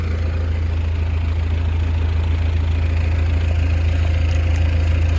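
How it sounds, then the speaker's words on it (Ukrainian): An old, working crop sprayer's engine runs steadily during a sunflower field spraying job, a loud, constant low rumble with an even mechanical throb and no voices. "Оприскуватель старенький, ну робочий."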